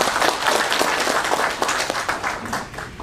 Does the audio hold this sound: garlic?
no